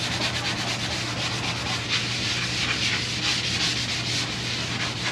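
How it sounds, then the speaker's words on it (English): Sanding old wooden bedroom furniture: a steady, continuous abrasive rubbing rasp that stays loud and close for the whole stretch, with no talking. "This I just sanded all the stuff off of it."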